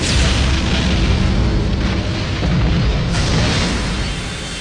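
A loud, sustained explosion tears through a laboratory, a dense rumbling roar with continuous debris-like crackle filling the whole span and a slight swell near the end, no talking over it.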